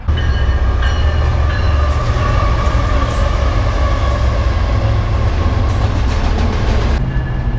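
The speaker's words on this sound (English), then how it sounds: "That ain't even my train." A train rumbles past close by, a steady loud roar of wheels and rail with metallic squeals and clatter throughout, no voices over it.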